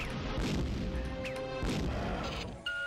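Heavy crashing blast from a grenade in the horror game Nobihaza, a loud smashing burst followed by rumbling debris and a second impact, with sharp metallic ringing tones near the end.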